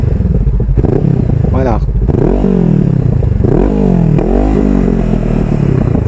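Loud motorcycle fitted with a de-baffled aftermarket exhaust revving hard up close, several rising and falling throttle blips in a row, with a voice briefly heard.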